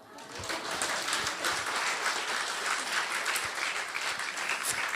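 Congregation applauding inside Masan Jungang Church during a Korean church conference session, a steady dense wash of clapping that holds for several seconds with a faint voice or two underneath.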